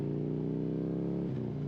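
Motorcycle exhaust burbling steadily at low speed past a church, a continuous near engine drone with a slight drop in pitch near the end, no talk.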